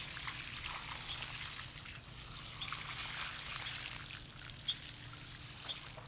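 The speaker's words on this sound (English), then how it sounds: "So I'm gonna put a full, 4 to 5 gallons of water on here." Four to five gallons of water pour onto a newly planted tree outdoors on a hot, humid day, making a continuous soft splashing trickle with faint birdsong in the background.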